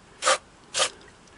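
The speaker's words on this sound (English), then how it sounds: "spray the area a little bit," Electronics cleaner sprayed from an aerosol can onto a sewing machine during cleaning: two short, close hissing bursts about half a second apart, alone.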